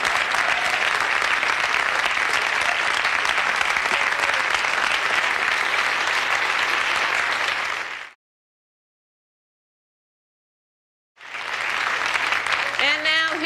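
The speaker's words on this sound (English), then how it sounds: "Turn on the applause lights." A television studio audience applauds loudly and continuously for about eight seconds, then falls silent before a second burst of clapping starts up.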